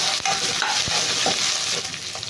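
Green chillies frying in a pan with a loud, steady hiss and sizzle, broken by scattered scraping knocks as a spoon stirs them, close up and without voices.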